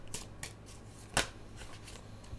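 Tarot cards being shuffled by hand in short papery riffles and swishes, a few soft bursts with one sharper, louder flutter in the middle, close and alone with no talking.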